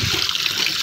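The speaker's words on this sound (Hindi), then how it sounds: "तौलियों को ऐसे पानी ऊपर से और डालेंगे क्योंकि गीले नहीं हुए।" Water pours steadily over towels soaking in detergent, a loud, continuous splashing rush heard close with no voices.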